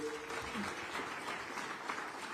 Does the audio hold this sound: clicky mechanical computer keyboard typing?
no